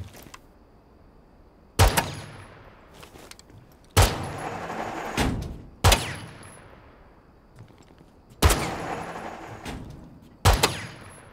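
An LMG in the video game Rainbow Six Siege fires in five separate sharp bursts, each a loud crack trailing into a ringing decay, spaced about two seconds apart.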